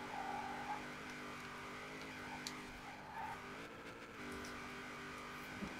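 Engine of a 2015 Chevrolet Camaro Z/28 at top speed in fourth gear in Forza Horizon 4, a fairly quiet, steady droning whine that holds level with only slight pitch shifts.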